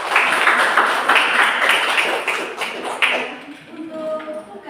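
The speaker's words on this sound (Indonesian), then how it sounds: "Beri aplaus." A classroom group claps in a steady, close, loud patter of many hands that thins out toward the end, with a few faint tones lingering as it fades.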